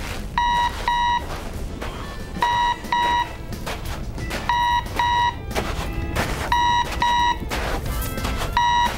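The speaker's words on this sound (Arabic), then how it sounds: "ايوة انا سمعاه، ده صوت اشارة." Cartoon beeping signal from a communication device hidden inside a stone, sounding as repeated pairs of bright electronic beeps in a steady rhythm over a busy background.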